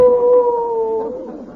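A performer in a 1948 radio comedy imitates a dog's howl with his voice: one sustained, loud tone that slides slowly downward and fades over about a second and a half.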